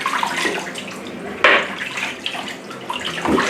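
Water and chicken pieces poured into a cooking pot, a close splashing gush with a sharp slosh midway and further pouring bursts, loud and without talk.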